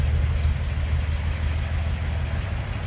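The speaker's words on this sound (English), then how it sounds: "What a smooth running truck." A 1941 Chevrolet AK Series pickup idles steadily, its low, even exhaust burble coming through the tailpipes at close range, with no talk over it.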